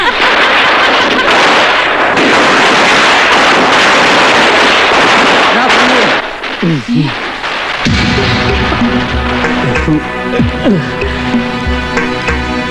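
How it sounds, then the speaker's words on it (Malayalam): Dense crackling bursts of firecrackers roar loudly for several seconds, then stop abruptly and give way to voices and music. "പൊട്ടിക്കണ പടക്കം പൊട്ടി കൊച്ചാണ്."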